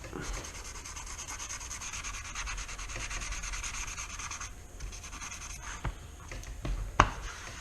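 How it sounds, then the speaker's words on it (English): 800 grit sandpaper rubs steadily across an oxidised slot car track, a close, continuous scratchy hiss of back-and-forth strokes that thins out near the end before a couple of sharp knocks. "So now we're going to use some 800 grit sandpaper before we polish our slots."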